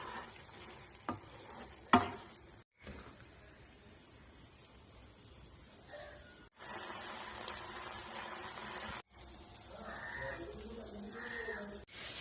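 Prawns frying in a pan produce a sizzle that cuts in and out in several sections, with a few clinks and stirring sounds between quieter stretches.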